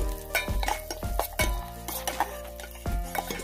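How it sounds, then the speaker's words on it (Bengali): Chillies, cashews and raisins are stirred in a metal pan for vegetable fried rice: repeated clinks and scrapes of a spatula against the pan at an uneven rhythm, with a faint sizzle beneath, close and moderately loud. "নাড়াচাড়া করে নিয়েছি"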